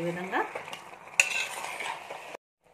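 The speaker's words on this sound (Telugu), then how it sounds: "ఒకసారి మొత్తం కలిపి తిప్పేద్దాం. ఇదంతా కలుపుదాం." A spoon scrapes and clinks against a pot while chicken curry sizzles gently, a few sharp metallic taps, then the sound cuts off abruptly.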